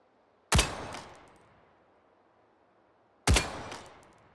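Two sharp single gunshots from a burst-capable rifle in the VR game Hot Dogs, Horseshoes & Hand Grenades, each loud crack followed by a short decaying tail, spaced about three seconds apart with quiet between.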